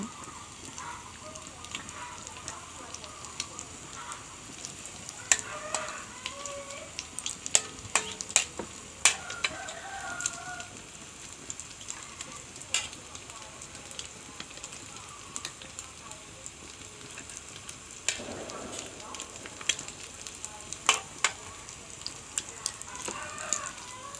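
Batter-coated flowers frying in hot oil, a continuous crackling sizzle with scattered sharp pops and occasional stirring clinks throughout.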